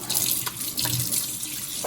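Hot water from a tap runs steadily over a paint brush being rinsed clean at a sink, a continuous close splashing stream with small drips, no talk.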